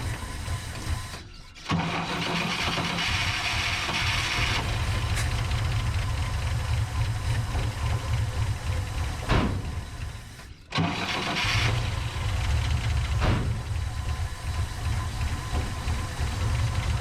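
Engine cranking on a 1963 GMC service truck that is hard to start, with loud, steady mechanical running broken by short cutouts and restarts, close by with no talking.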